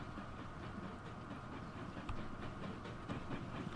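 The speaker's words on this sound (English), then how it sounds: "here's our little alcohol train again, heading back" A freight train in the Transport Fever 2 video game rumbles along as a steady, faint rolling drone with soft rhythmic clicks of wheels over rail joints, no voices.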